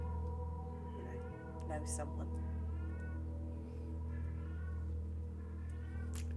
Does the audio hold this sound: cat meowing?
yes